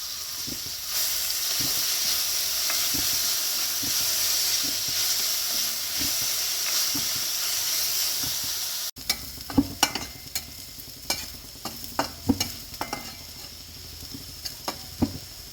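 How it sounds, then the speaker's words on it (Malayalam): Onion sautéing in a pan, first a loud steady hiss of frying, then a quieter sizzle punctuated by repeated sharp scrapes and clacks of a spatula stirring, close by, with no voices. "സവാള നന്നായിട്ട് വഴന്നു വന്നിട്ടുണ്ട്"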